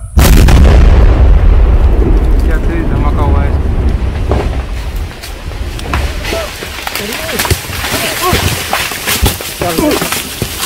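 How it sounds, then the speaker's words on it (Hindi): Controlled blast destroying seized explosives from about 500 metres away, a loud low boom with heavy rumble at the start, then debris, wind and crowd noise with people talking. "हम 500 मीटर की दूरी पर सुरक्षित एक दूरी से इसको ब्लास्ट कर रहे हैं"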